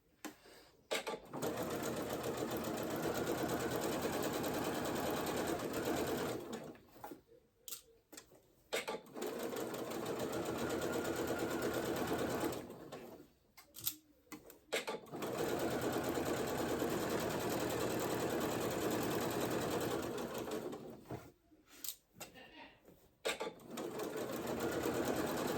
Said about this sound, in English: you're gonna sew this at 5/8